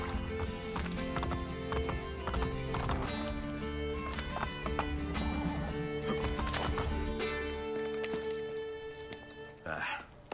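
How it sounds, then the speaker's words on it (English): Horse hooves clip-clop steadily in the Assassin's Creed Brotherhood video game, with occasional whinnies over a continuous game soundtrack, with a brief voice near the end. "I can no longer keep up with the horses"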